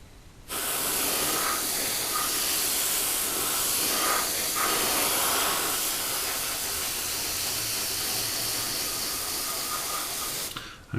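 An airbrush sprays paint onto a 1/35 Tamiya M1A1 Abrams model tank, a close, steady airy hiss that starts abruptly, holds for about ten seconds and then cuts off.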